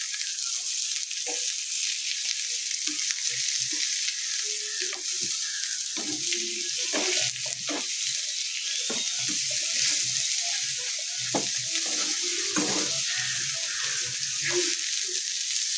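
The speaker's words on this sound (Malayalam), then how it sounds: "കൊച്ചുള്ളി ഇതിന് മൂക്കട്ടെ. ഉള്ളി ഏകദേശം വഴന്നു." Small shallots frying in a pan for chicken kondattam, giving a loud continuous sizzle with stirring and scraping noises breaking through, heard alone without talk.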